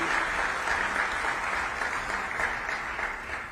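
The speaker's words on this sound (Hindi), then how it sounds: "आप भी तालियां बजा के उनका स्वागत कीजिए, अभिनंदन कीजिए।" An audience at a spiritual gathering claps steadily to welcome a revered swami, a dense, continuous round of applause from many hands with no voices on top, easing slightly toward the end.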